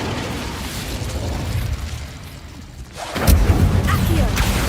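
An Incendio fire spell in Hogwarts Legacy bursts into a loud, roaring explosion partway through, over a constant rumble of battle noise and game effects.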